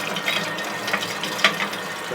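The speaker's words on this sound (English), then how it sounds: "fill that thing full of nice cool water" Cool tap water pours steadily into a glass bottle, a continuous hissing splash with slight gurgles, close and fairly loud, with no talk.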